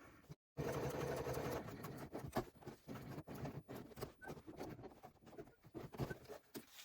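A sewing machine runs along the edge of a bag, stitching on a zipper overlay in quick, close bursts of mechanical patter, broken by short pauses and one brief full stop.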